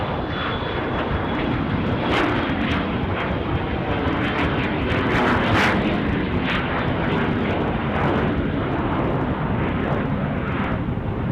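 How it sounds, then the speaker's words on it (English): Business jet taking off at Dusseldorf airport: a loud, steady engine roar that fills the whole stretch without pause, a broad rushing drone with a thin high whine running through it. "got a bizjet rolling."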